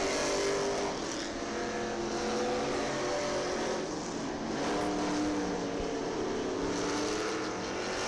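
Race cars circle County Line Raceway, their steady engine drone filling the air at moderate distance as the pack completes a lap, with pitch shifting slightly as the cars sweep around.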